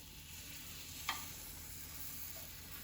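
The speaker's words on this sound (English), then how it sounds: "I'm gonna go ahead and cook all my vegetables together" Mixed vegetables sizzling in oil in a pan for japchae, a steady, faint hiss throughout with one brief clink partway through, no talking.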